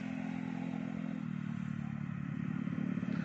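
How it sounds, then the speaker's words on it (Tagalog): Motorcycles pass quickly along a long bridge road between La Union and Ilocos Sur, a steady whirring engine drone with clattering, rising toward the end, nearby and without talk. "Maraming mga motor. Ang bibilis."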